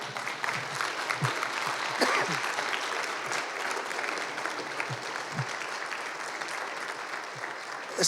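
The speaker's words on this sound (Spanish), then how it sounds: "Y denle un fuerte aplauso al Señor" Church congregation giving a long, loud round of applause, steady dense clapping with occasional louder claps and faint voices underneath, sustained throughout.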